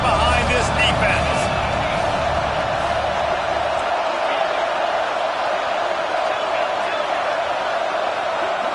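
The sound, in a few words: football stadium crowd cheering on third down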